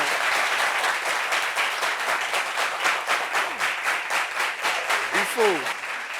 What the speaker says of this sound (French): Applaudissements pour Joël Héraclite, s'il vous plaît